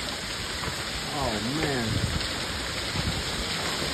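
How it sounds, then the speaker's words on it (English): Hail and heavy rain pelt down during a severe thunderstorm in Yadkinville, North Carolina, making a dense continuous patter while a man exclaims over it. "we're in a severe thunderstorm. Hail. Look at the hail."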